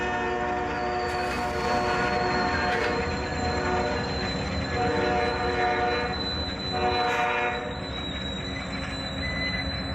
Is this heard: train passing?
yes